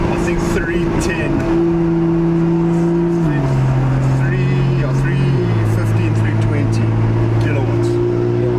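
BMW M2 with N55 turbocharged inline-six tuned to about 410 horsepower, engine droning loud and steady with stepped pitch changes like shifting gears under acceleration, constant through the clip with some talk over it.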